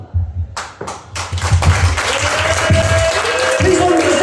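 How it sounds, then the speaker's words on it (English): Audience applause at a comedy night in Portsmouth, starting with a few separate claps that quickly swell into loud, sustained clapping from the crowd, with a voice speaking over it. "Begin the applause for me now."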